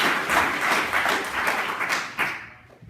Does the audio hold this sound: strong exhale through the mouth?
no